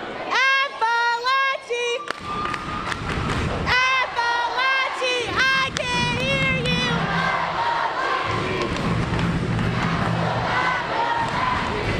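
A crowd at a high school pep rally cheers and shouts in bursts of loud, overlapping yells and whoops, close and energetic, with some talking mixed in.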